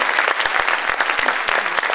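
An audience applauds at a live music presentation, a loud, dense burst of clapping hands continuing steadily throughout with no voices over it.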